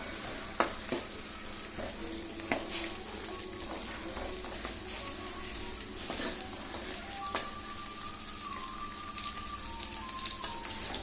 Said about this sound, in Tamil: நல்லா அந்த வெங்காயம் வதங்குற மாதிரி பார்த்திங்கன்னா நல்லா தொலாவி கொடுக்கணும்